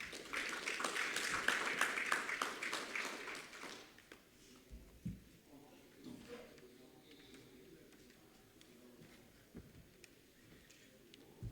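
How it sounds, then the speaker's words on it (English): Audience applause after a talk on African trade unions and debt sustainability, a brief burst of clapping that fades within a few seconds into quiet room noise with a few thumps and faint voices. "let's give Dr. Hogg another round of applause"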